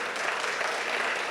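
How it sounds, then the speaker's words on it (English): Steady audience applause fills a press conference room at Pikeville Medical Center, a dense, even wash of many hands clapping at once, fairly close and with no voices rising above it. "they deserved an applause, absolutely"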